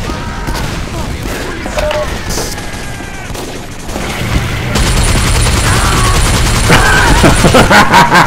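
Minigun fire in the shooter game Team Fortress 2, a loud rapid rattling burst over steady battle noise that turns into a sustained roar, with a voice speaking over the first part of the gunfire.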